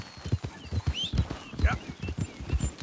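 Horse hooves clip-clop at a steady walking pace, close by, with a brief whinny and a few faint chirps in the background, in the video game Red Dead Redemption 2.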